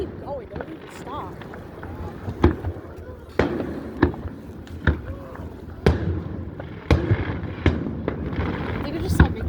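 A fireworks show in Antioch, California, with sharp booming bursts at irregular intervals, some near and loud, others softer and distant, while people talk throughout.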